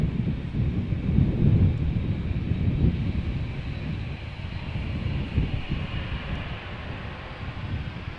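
A United Airlines Dreamliner departs Amsterdam Schiphol for San Francisco with a broad, rumbling engine roar, gusty and steady, alone without talk.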